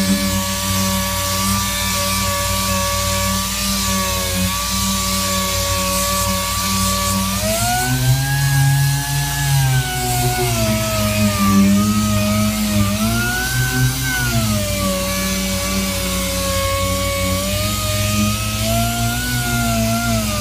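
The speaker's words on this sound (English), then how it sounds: "Sanding all of these, you know, it's got all this nasty stuff on." Power sanding of a 1957 truck body with 180-grit sandpaper, a loud continuous whirring tone that rises and dips in pitch around the middle and holds steady throughout, with no talk.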